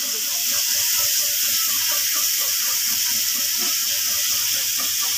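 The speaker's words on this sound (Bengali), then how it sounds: "চিংড়ি মাছগুলো আমি ভালো করে ভেজে নিচ্ছি আগে" Prawns fry in a hot pan with a loud, steady sizzle and hiss that runs unbroken and close throughout.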